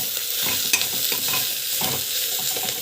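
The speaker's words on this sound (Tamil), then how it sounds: "போட்டுக்கிட்டு வதக்கிக்கலாம்." Knol khol sautéing in a pan, a steady bright sizzle broken by regular scraping strokes of a spoon stirring the vegetable, close and continuous with no voices.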